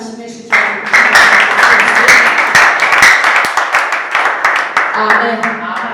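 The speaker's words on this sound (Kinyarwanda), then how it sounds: "Mukomere Imana amashyi menshi cyane." A church congregation claps together during a Kinyarwanda sermon, a dense, steady burst of many hands lasting several seconds at close range, with a voice speaking over the start and end.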